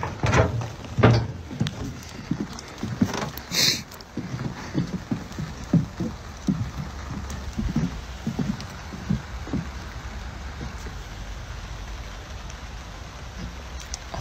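Rain falling outdoors, a steady wash of patter with scattered heavier drops and rustling thumps close by, gradually settling into an even hiss.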